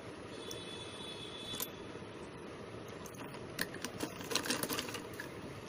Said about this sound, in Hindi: ये सिलाई यहाँ से ऐसे स्टिच करनी है।